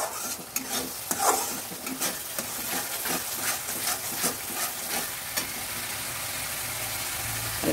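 Spice paste for tilapia curry frying in oil while being stirred, a steady loud sizzle with repeated spoon scrapes against the pan, close and with no talk.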